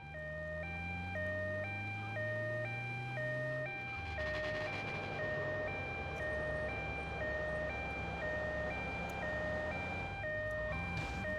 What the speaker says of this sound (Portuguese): Sai da frente da ambulância, seus vagabundos.